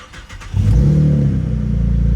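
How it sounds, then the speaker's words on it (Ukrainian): A 2013 Chevrolet Camaro engine starts with a short cranking stutter, then catches into a loud, close, deep rev that settles into a strong, rumbling idle. "Зараз запустимо двигун."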